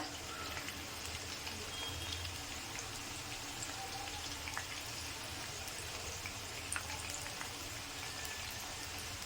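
Plantain slices fry gently in a pan on low heat, giving a faint, steady sizzle and crackle with no talking.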